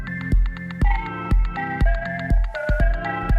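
A bright, bell-like Minecraft-style coin chime rings repeatedly in a steady rhythm, each hit warbling and wobbling in pitch from heavy RC-20 wobble processing.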